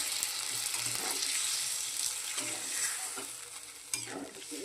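Lentil curry of split peas sizzling and bubbling in a pan after a little water is poured in, with a soft hiss under occasional scraping stirs from a spoon.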